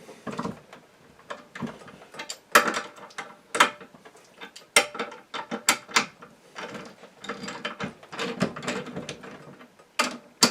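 The action is removed from a Savage rifle chambered in .308 Win during re-barreling. Close metallic clicks, scrapes and ratcheting clatters come in irregular bursts with quiet gaps between them, and no one speaks.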